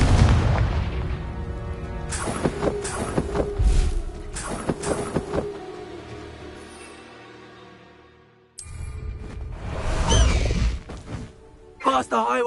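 Confringo blasting spell explosions in a Harry Potter video game: a string of heavy booming blasts with deep low rumble, several close together, then a lull and more bursts, mixed with game voices and effects.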